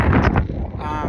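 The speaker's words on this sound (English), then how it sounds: "even though it's really windy out here" Strong outdoor wind buffets the microphone in loud, rumbling gusts on a warm, breezy day, with a brief voice-like sound mixed into the blustery noise.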